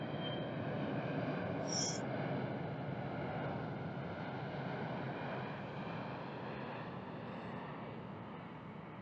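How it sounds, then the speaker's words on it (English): An airplane passes overhead as a steady, broad engine rumble that fills the whole stretch, loud at first and easing slightly as it drifts away, with no talking. "airplane going by, so let me pause for a few seconds"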